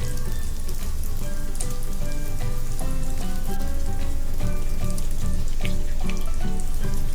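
Egg mixture sizzling in a little leftover oil in a pan for keto egg bites, a steady dense crackle running throughout at even loudness, with faint clinks of background music-like tones.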